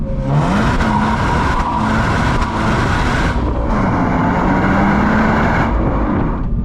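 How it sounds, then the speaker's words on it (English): A 2024 Subaru BRZ tS engine drones steadily from inside the cabin while driving, a moaning tone rising and falling through gear changes, loud and continuous with road noise underneath. "I think the biggest letdown is the engine sound."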